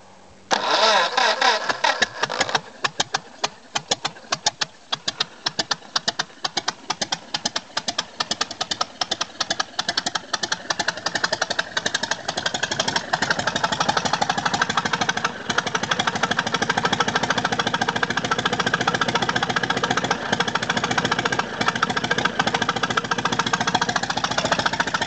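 A 1926 Ford Model T engine cranks over and catches, popping and sputtering at first before settling into a loud, steady running idle with rapid irregular firing, carburetor and retarded timing making it rough.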